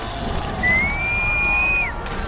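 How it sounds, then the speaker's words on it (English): A single loud, sustained whistle, held steady for over a second before bending downward at the end, sounds over a low background rumble. "She aimed and fired her rifle, then whistled loudly."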